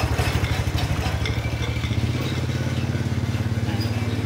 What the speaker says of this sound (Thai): รถขายกับข้าวข้างหลังนะ